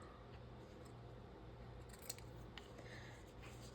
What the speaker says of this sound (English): Let me trim the top off.